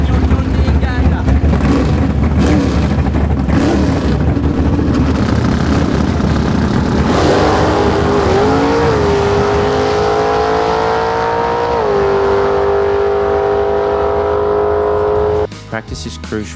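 A John Deere Gator utility vehicle engine runs continuously while driving over flat ground, holding a steady drone before its pitch climbs and settles higher, then drops off near the end.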